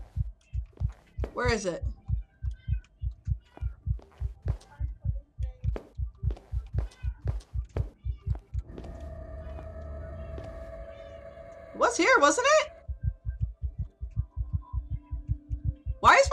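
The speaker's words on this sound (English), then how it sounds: "Why is my heart beating? So creepy!" A deep, steady heartbeat thumps in The Night That Speaks, a regular low pulse running throughout with eerie tonal swells and a few sharp stingers, while a person talks briefly over it.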